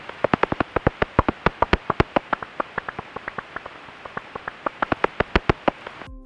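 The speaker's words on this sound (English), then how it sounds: "Their call sounds like this." Common pipistrelle bat echolocation calls rendered audible as a rapid train of sharp dry clicks, dozens of evenly spaced pulses in bursts with a brief slowdown in the middle, close and clear with no talk.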